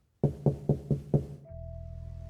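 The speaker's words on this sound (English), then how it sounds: "someone knocked on the door" Five sharp knocks on a wooden door of a treehouse-like deer stand at night, evenly spaced and close, followed by a steady low hum.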